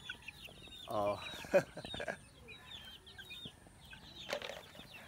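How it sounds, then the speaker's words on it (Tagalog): Five young chicks in a backyard peep faintly and continuously over a low outdoor background, with deeper clucking from adult fowl and a brief spoken exclamation. "5 malulusog na mga sisiw."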